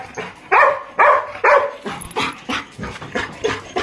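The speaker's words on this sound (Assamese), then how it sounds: "এই কুকুৰটো কি ভুকি থাকচোন" A dog barks repeatedly, about eight sharp, loud barks in a quick, fairly regular rhythm, close by.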